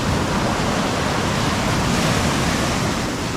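Ocean shore-break waves wash onto a beach in a loud, steady roar of broadband surf with no pauses and no voices.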